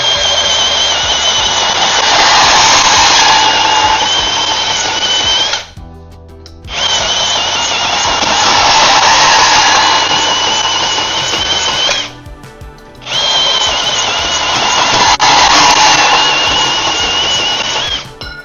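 A loud cordless power tool on a Vanon replacement Milwaukee battery whirs in three long bursts of steady cutting, each pausing briefly before starting again, close by with no talking.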